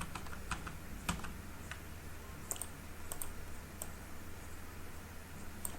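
Rapid keystrokes on a computer keyboard, irregular bursts of light clicks with brief pauses, close and fairly quiet over a steady low room hum.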